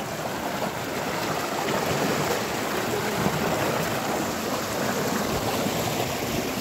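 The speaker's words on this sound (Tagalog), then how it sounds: "malakas po yung agos ng tubig" Strong river current rushes steadily past on a trek through Lelepa, Vanuatu, a dense, constant roar of churning water close by, unbroken and even in loudness, with no voices.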